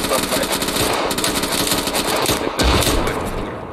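GPMG machine gun fire in the Arma 3 video game, loud and sustained rapid bursts close by, with rattling shots running almost continuously and no talk.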